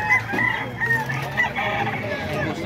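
Chickens cluck steadily and close by for the whole stretch, with a busy farmyard murmur behind them and no clear talk.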